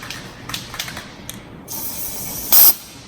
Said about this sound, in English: just want to spray it.